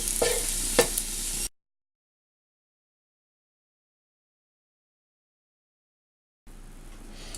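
Raisins and onions fry in a pan while cooking a Kozhikodan chicken dum biryani, giving a steady close sizzle with stirring that drops into a long silent gap before the sizzling returns.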